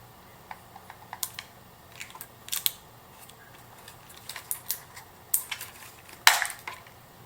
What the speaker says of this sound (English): Their plate just simply clicks on and off